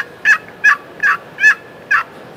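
Five crisp turkey yelps scratched out on a wooden box call, evenly spaced about every half second, close and clear against a quiet background.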